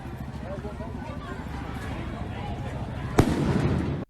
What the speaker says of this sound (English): Oh my God, dude, was that a firework?